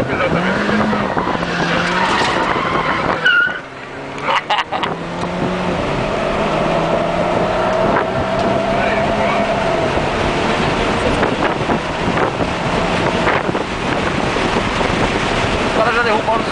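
A Mini Cooper S driven at full throttle on a track during a driving experience event, its engine roaring loud and close with rising revs and tire noise, while people talk inside the car.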